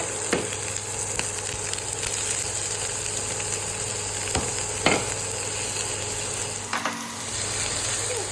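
Chopped onion frying in a pan, a loud, constant close-up sizzle with a few scraping stirs and clinks cutting through.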